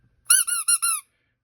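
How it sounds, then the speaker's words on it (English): A rubber Minecraft duck toy gives four quick, bright squeaks in a row, each short and high-pitched, alone against near silence. "The Minecraft duck squeaks."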